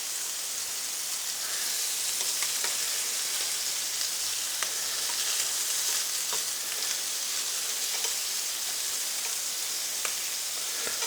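Chicken livers sizzle steadily in a hot pan, a dense crackling hiss with occasional louder pops, close and continuous.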